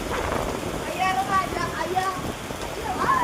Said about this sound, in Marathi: बघा गाईस केवढा पाऊस झालाय